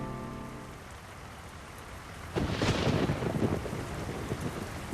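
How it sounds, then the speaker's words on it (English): Heavy rain in San Francisco within a video game, a steady hiss of downpour that suddenly grows louder and denser with rumbling, spattering bursts in the second half. "You join me in a very, very rainy San Francisco."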